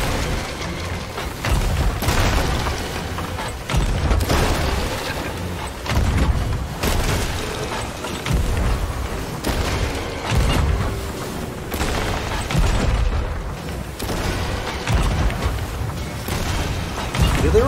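Ship cannons firing in the Sea of Thieves video game, repeated heavy booms every couple of seconds over constant sea and ship noise, loud and close throughout.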